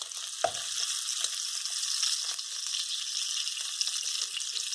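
Fried rice ingredients frying in oil at high heat, a dense steady hiss of sizzling with a single clank of a utensil early on.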